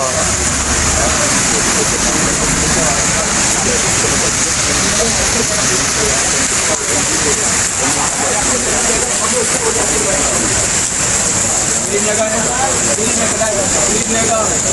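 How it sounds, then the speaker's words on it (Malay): Rain pours onto a street in Kuala Lumpur: a steady, dense hiss of falling water that runs unbroken throughout, with people talking faintly beneath it. "Hujan pula."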